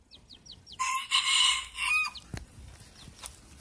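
Golden Dutch bantam chickens in a backyard poultry yard: a loud, close rooster crow followed by a few scattered clucks and short calls.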